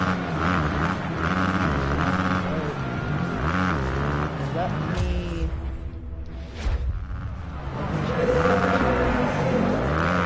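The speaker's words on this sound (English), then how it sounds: "And my bike just completely rev bombs right there." Motocross bike engine revving in Monster Energy Supercross, a racing video game, a loud continuous whine rising and falling throughout, with a brief dip midway, as a voice talks over it.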